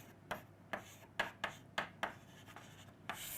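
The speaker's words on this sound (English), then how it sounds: "So I will write down, don't worry on that part." A pen writing on paper, close and quiet, in short regular strokes with soft scratchy taps about every half second, alone without talk.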